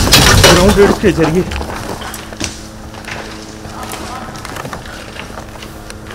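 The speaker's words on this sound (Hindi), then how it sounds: "ग्राउंड रेड्स के जरिए आपने ये धमाका सुना, ये अभी भी शायद कोई शैल अंदर था" A shell explodes during an Israeli airstrike on Beirut, a loud, harsh blast at the start that fades into a low rumble while someone talks over it.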